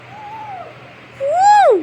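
A person's voice imitating a bird call: a soft hooting note followed by a louder rising and falling whistle-like hoot, close and alone.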